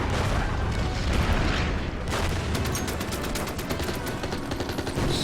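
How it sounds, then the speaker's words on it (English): Artillery fire in the Order of Battle strategy game, a dense continuous roar of booms and rapid shot bursts, loud and sustained throughout. "And I have my artillery. Let's fire on that one and that one."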